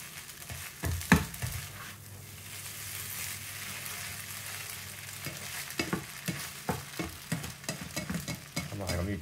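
Eggs fry in a hot pan, a soft sizzle underneath repeated scraping strokes of a utensil stirring them, the stirs growing quicker and more rhythmic toward the end.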